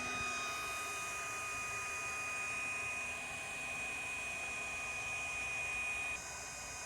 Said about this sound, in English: we have the coils wrapped around that glow plug, trying to heat it up